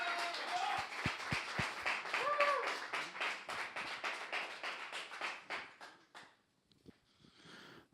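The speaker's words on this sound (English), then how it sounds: "So everybody, give a great round of applause for Zach Maas." A modest audience claps for a comedian at a music-session show, a scattered round of applause with a few sharp individual claps, fading out toward the end with faint sound after.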